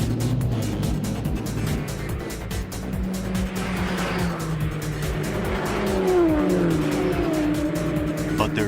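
A race car running at the Nürburgring in the dark, a loud engine note rising and falling through gear changes with tire squeal and the rattle of the onboard cabin, a voice faintly under it.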